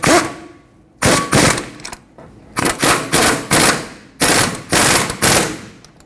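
Impact wrench snugging the front brake caliper bracket bolts on a 2006-2010 Hyundai Sonata, fired in a run of loud, close, rattling bursts of about half a second each, separated by short pauses.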